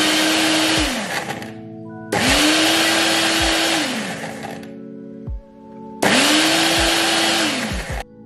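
A blender pulses aloe vera in three loud, separate bursts, each whirring motor run lasting around two seconds before winding down with a short pause between.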